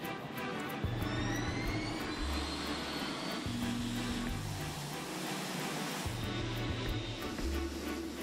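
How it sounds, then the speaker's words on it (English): A Boeing 747-8 jumbo jet on its first takeoff roars steadily with broad jet-engine noise, heard at a distance under a low rumble and intermittent background tones. "The 747-8 the newest and largest version of the company's iconic jumbo jet, is taking off for the first time."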